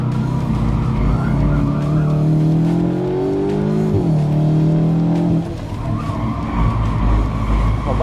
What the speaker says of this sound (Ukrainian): Зараз я проїду одне коло таке більш бойове